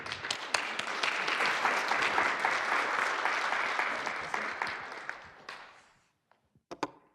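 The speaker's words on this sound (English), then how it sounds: "Big round of applause for Eric." An audience at a business talk breaks into sustained, dense applause that swells and then fades away, leaving a few scattered claps at the end.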